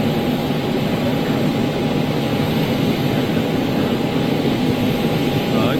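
An airliner landing on a runway at Schiphol, its jet engines a steady, loud, broadband roar with a low rumble that holds evenly throughout, no voices over it.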